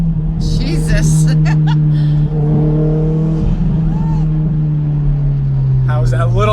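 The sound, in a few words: 500whp Mitsubishi Evo X accelerating hard in second gear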